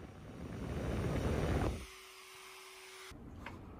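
A Dremel rotary tool with a small 106 engraver bit grinds into wood, a high whirring buzz that cuts off partway through, leaving the motor whining briefly before it stops.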